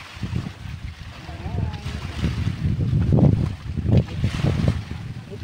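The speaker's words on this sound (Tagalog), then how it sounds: "Ang lakas ng hangin. Lakas ng alon o." Strong seaside wind buffets the microphone while high-tide waves surge and wash at the shore in Pagbilao, Quezon, the roar swelling and easing in uneven gusts.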